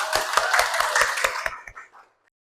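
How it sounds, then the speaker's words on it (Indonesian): Students in a university class clap together in a rhythmic unison pattern, about eight sharp joint claps, then a few scattered claps trailing off into silence. "Tepuk tangan bersama."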